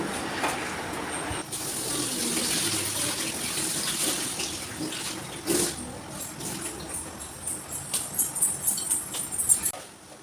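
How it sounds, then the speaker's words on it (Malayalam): Water runs steadily with soft splashing and occasional clatters as beans are rinsed under a tap. "വെള്ളത്തിലിട്ട് നല്ലോണം ഒന്ന് കഴുകി എടുത്തിട്ടുണ്ട്"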